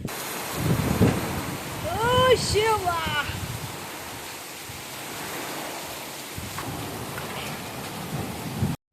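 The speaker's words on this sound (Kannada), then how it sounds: "ವರ್ಷದ ಮೊದಲ ಮಳೆ ನಮ್ಮ ಕಡೆಗೆ ಇವತ್ತು ಬೀಳ್ತಾ ಇದೆ" Constant dense hiss of heavy rain pouring down, with a person speaking briefly over it near the start.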